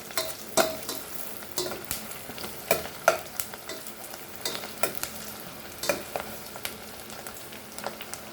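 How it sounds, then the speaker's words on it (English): Onion frying in a pan for a Malvani chicken curry, a soft continuous sizzle broken by regular clinks and scrapes of a spoon stirring, fairly quiet and with no talking. "You have to fry this onion till golden brown."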